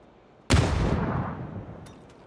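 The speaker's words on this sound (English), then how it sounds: "A little bit undercooked, that frag grenade, but he's got the right idea" A frag grenade detonates in the battle royale game PUBG during a custom match, one sudden loud blast followed by a long rumbling decay that fades over about two seconds, heard alone.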